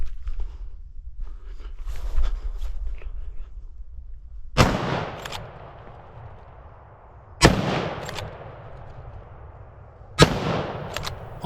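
Hunting rifle shots during a driven boar hunt in open country: three loud, booming reports a few seconds apart, each with a long rolling echo, following a stretch of quieter outdoor background.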